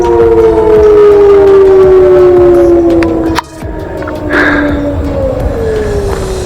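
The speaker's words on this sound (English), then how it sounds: "I guess you're done working for the day when the tornado sirens come out" Loud tornado warning sirens wail outdoors across a county, their long tones sliding slowly downward, with a brief dip midway before the sound resumes.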